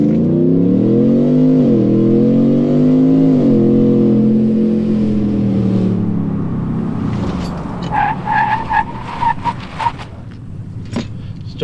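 Pickup truck on a brake test run with a big brake kit: a loud engine revving up with rising pitch, then a long tire skid and squeal as it stops hard, ending in scattered clunks and rattles.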